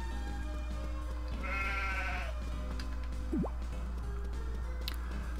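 A sheep bleats in Harvest Moon: Magical Melody on a farm, one short wavering bleat over a low constant hum, followed by a faint bubbly blip.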